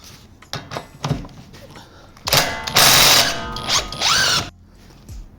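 Power gun removing a bolt from the rear axle of a 2018 Jeep Compass. A few metallic clicks lead into a loud, close whirring burst of about two seconds, then it stops abruptly.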